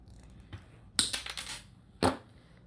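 Cutters snip through wire mesh while a crab snare is being made. Two sharp, close clicks land a second apart, each with a brief rattle of wire, over a quiet background with a faint earlier tick.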